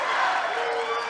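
A packed gym crowd at a high school girls basketball semi-final chants the "Who Dat Nixa" cheer, a loud, sustained mass of voices heard close and continuous through the short stretch.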